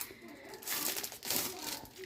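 A microwave popcorn bag crinkles and rustles as it is handled and cut open, in short papery bursts with a voice faint in the background.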